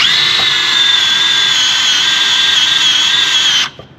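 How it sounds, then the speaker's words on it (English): A power drill with a dull bit whines steadily at high speed for a few seconds boring pilot holes in metal to mount a winch on an offroad wrecker, then spins down and stops. "we're just drilling holes now to bolt the winch down"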